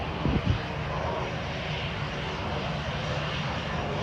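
Steady broadband engine roar of an EasyJet airliner passing at Manchester Airport, fairly constant in loudness, with a couple of brief thumps near the start.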